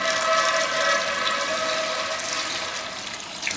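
Hot water lifted with a cloth and poured into a large pot of mutton curry made with Mathania chillies, a steady continuous splashing pour heard close up with no talking.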